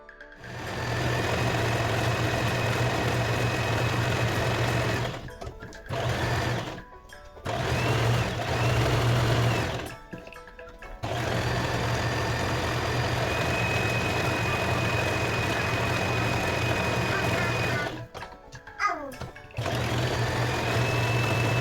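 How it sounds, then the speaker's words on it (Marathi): A sewing machine stitches a fabric batwa bag along three sides, its motor whirring steadily in long runs broken by short pauses. "त्याच्यानंतर तिघं बाजूंनी आपण स्टिच करून घेऊयात"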